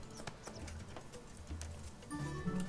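Horse hooves clip-clop in the online game ArcheAge, a light rhythmic patter at moderate distance under faint background game sounds.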